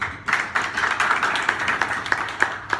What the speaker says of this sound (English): Like a round of applause for all of you guys for taking the time to come to an event like this